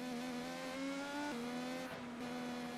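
Race cars in a sim racing game at Motegi accelerating out of the final hairpin, engines droning steadily with a continuous rising tone, close and loud throughout, no talk.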